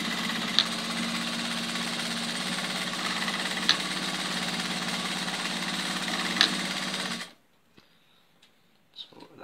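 Frister & Rossmann sewing machine stitching upholstery and leather together, running as a steady, dense mechanical whirr with faint periodic clicks for about seven seconds before stopping abruptly, followed by a few small handling sounds.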